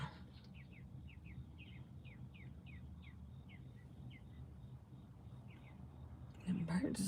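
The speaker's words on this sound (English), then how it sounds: "And birds are singing right there." Several small birds give short repeated chirps outdoors, fairly faint and evenly spaced over a low background hum, followed by a brief louder noise near the end.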